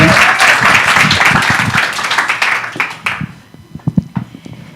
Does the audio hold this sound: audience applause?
yes